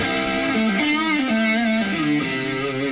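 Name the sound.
electric guitar through distortion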